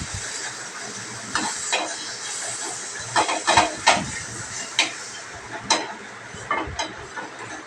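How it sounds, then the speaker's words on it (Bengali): Fish pieces sizzle and spit in hot oil in a frying pan, a steady loud hiss broken by bursts of crackling and popping, close up with no talk. "আরও 2 পিস মাছ আছে, সেগুলোকেও একটু ভেজে নেব।"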